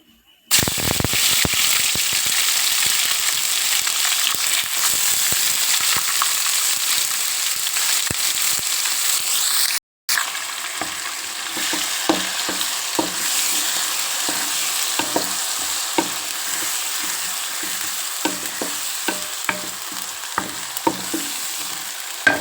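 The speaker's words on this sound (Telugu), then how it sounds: "ఇప్పుడు ఆయిల్ బాగా వీటెక్కింది కాబట్టి మనం మసాలా వేసుకోవచ్చు" Masala spices drop into well-heated oil for a raw prawn and chana dal curry, giving a loud, dense, continuous sizzle with sharp crackles and pops. A brief cut interrupts it midway, then the frying continues slightly quieter with scattered spits.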